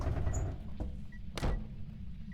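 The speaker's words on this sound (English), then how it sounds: "It was this door. Some weird stuff happens with that door." A door in Phasmophobia gives a few dull thunks and a short scraping swing against a low background hum, heard close and alone.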